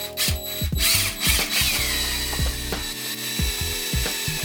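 A power drill widens a misaligned bolt hole in the sub-floor of a school bus being converted into a tiny house. The whirring motor stutters and changes pitch under load, loud and close, with no talking.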